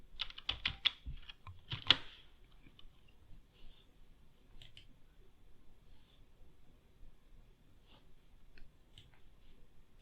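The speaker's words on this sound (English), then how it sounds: "So I need to get my password here. So let me do that." A computer keyboard tapped out in a quick burst of keystrokes early on, then a few scattered, fainter key presses in a quiet room, with no talking.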